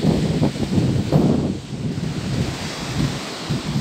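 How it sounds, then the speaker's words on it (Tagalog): Heavy surf from big typhoon-driven ocean waves rolls and crashes in low, rumbling surges, mixed with wind noise blowing across the microphone. "Delikado to guys pag ganyan kalaki pa yung mga alon."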